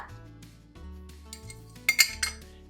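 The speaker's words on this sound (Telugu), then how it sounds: "ఇప్పుడు ఇలా మూత తీసేయండి" A metal lid comes off a pot of pepper rasam with a few sharp clinks and clatters of metal on metal, close and fairly loud.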